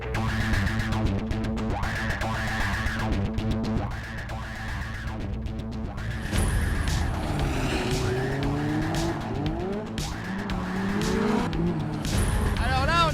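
A Peugeot 205 Turbo 16 rally car drives with a loud engine that rises and falls through the gears, with sharp revving and tire noise in the second half. Nearby voices talk over it at times.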